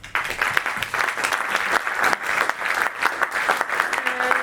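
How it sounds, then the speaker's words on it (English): Warm applause from a conference audience at Helix Eindhoven, dense and sustained clapping filling the hall throughout, with a faint voice near the end. "Warm applause"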